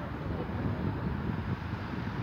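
Cold wind blows on a cloudy, humid day in Fátima, Portugal, a continuous rough rushing noise buffeting the microphone, steady and fairly loud throughout with no voices.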